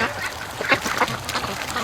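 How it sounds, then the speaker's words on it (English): Muscovy ducks gathering in the morning rush after breaking out of their pen, with soft, overlapping quacks and calls close by, steady under wind noise and a little quiet talk. "Oh, look at the ducks"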